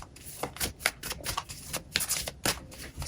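Oracle cards are shuffled by hand in rapid riffling bursts of crisp flicks, close and steady for about three seconds with no voices.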